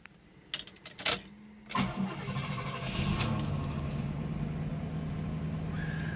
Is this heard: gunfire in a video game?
no